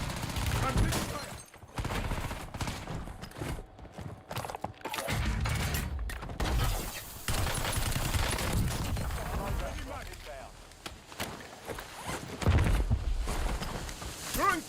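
Gunfire in Call of Duty Warzone comes as bursts of automatic rifle fire and mechanical clatter, loud and close, with quieter gaps between volleys.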